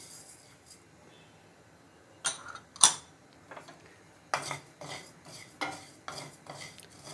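Cumin seeds dry-roast in a pan for thalipeeth flour, stirred in a quiet kitchen with intermittent scraping and rustling strokes and a couple of sharper metallic taps.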